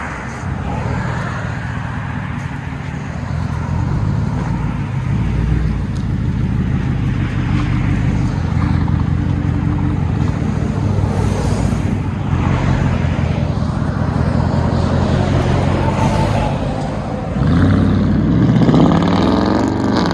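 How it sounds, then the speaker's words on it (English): A Ford F-150 with straight pipe exhaust and 6-inch tips rumbles loudly and steadily nearby, a deep continuous drone that swells toward the end. "beautiful straight pipe Ford F-150"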